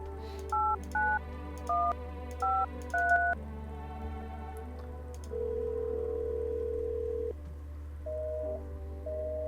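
Telephone keypad tones from a video game, a quick run of about six paired beeps followed by longer sustained tones, clear and steady over a constant low hum with no talking.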